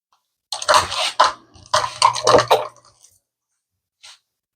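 Half a cup of filtered water is poured into a blender for homemade mustard, a few short splashing bursts over about three seconds, close and clear, then one brief trailing drip.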